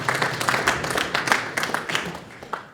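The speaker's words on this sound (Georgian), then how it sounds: "აპლოდისმენტებით გავაცილოთ მებრძოლები." An audience at a fight-promotion press conference claps as the fighters leave the stage, a dense, lively burst of applause that fades slightly toward the end.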